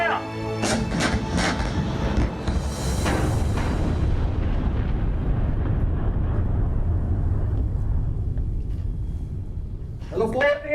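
Tank guns fire at targets in a heavy, roaring blast that rumbles and slowly fades over several seconds, with a second loud burst near the end and voices in the background.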